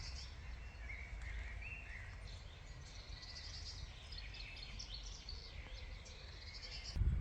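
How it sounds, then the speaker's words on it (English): Birds chirp and sing in the church garden of Mariager Abbey, faint scattered calls over a quiet low rumble of wind, with a soft thump at the very end. "You can probably hear all the birds in the background."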